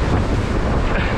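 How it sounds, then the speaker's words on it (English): Ocean waves surge and churn under strong wind buffeting the microphone, a steady, loud, broadband roar from a boat at sea while out fishing for snapper. "Look at those waves."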